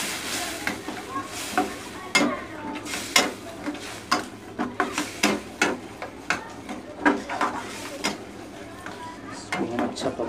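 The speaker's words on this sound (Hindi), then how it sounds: "इसमें हम चिली सॉस डालेंगे, और इसको हम अच्छी तरीके से चला लेंगे हम।" Paneer being stirred with tomato sauce and chili sauce in a pan, with repeated scraping and clanking of a spoon against the pan in an irregular rhythm over a soft sizzle, close and moderately loud.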